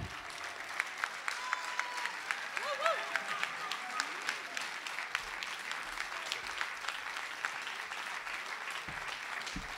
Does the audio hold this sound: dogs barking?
no